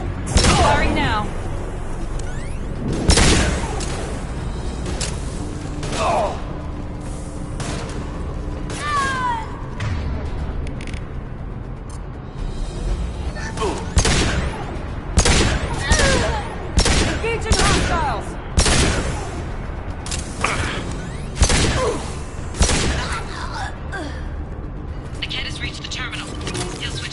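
Gunfire in Mass Effect 2 Legendary Edition on PS4: repeated loud shots and short bursts spread across nearly half a minute, mixed with mechanical clanks and creaks, with voices speaking intermittently underneath.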